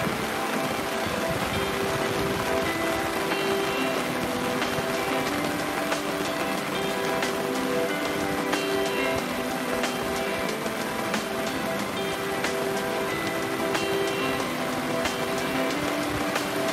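Rain falls steadily at a Carnarvon Gorge campsite in Sandstone Park, Central Queensland, Australia, a continuous even hiss of drops on surfaces throughout, with no talking.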